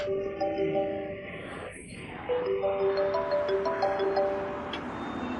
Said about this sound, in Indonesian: HP-nya bunyi.